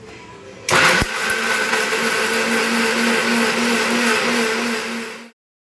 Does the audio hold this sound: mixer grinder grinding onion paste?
yes